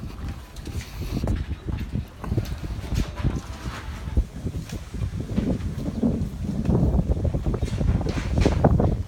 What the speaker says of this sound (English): Yeah, it's very windy out today. Hopefully you can hear me.